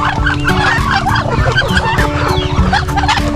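Turkeys, chickens and ducks in a backyard flock gobble, cluck and quack together in a loud, busy chorus close by, without any talk.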